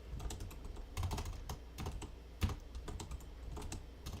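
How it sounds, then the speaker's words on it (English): Loud computer keyboard being typed on steadily at a desk during a live stream, with irregular clacks and a few heavier key hits, close up and with no talking. "my keyboard is too loud."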